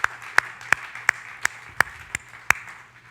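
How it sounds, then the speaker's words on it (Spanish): Someone in a church worship service gives sharp, evenly spaced claps, about eight in a steady rhythm, close and crisp over a faint low hum, with no voices. "Denle el aplauso al Señor, que para la gloria de Él será."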